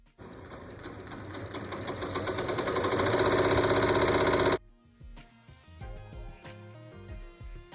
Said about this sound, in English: Now we're going to add a top stitch to the faux leather.